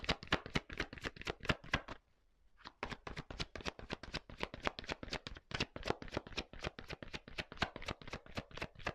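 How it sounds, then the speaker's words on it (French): Tarot cards shuffled by hand in quick, steady riffling taps, close and dry, with a brief pause partway through before the rapid card flicks resume and continue to the end. "Allez, je prends une petite carte encore."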